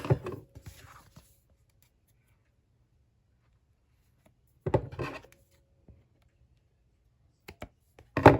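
Paper being trimmed with scissors while making an accordion mini scrapbook album: a short burst of snipping and rustling at the start, then silence, then two more cutting bursts, close and fairly soft.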